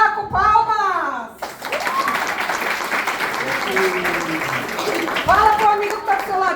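Applause breaks out among a children's class group at a religious lesson, a sustained wash of clapping that follows and runs under a speaking voice and children's chatter.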